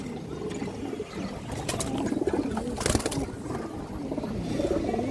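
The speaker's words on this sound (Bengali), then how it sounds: "বড় সাইজের সবুজ গোলা মাদি কবুতর" A large green-necked female pigeon coos steadily in soft, rolling low phrases, with a brief flutter of sound midway and no voices present.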